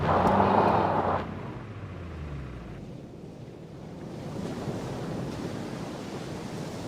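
Surf breaks on a remote beach along an undeveloped 80-mile stretch of coast littered with plastic. The waves rush steadily, with a gust of wind buffeting the microphone at the start.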